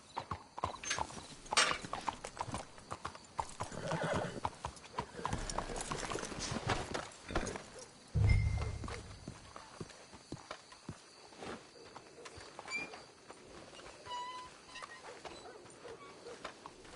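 Horses clip-clop along in a video game, steady hoof beats on a hard surface with occasional snorts and faint background sounds, while voices talk quietly in between.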